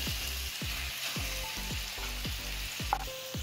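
A masala paste of ground spice mix and tomato puree sizzles steadily in a hot pan while cooking bhogi chi bhaji, close and continuous frying with a soft stir and clink near the end.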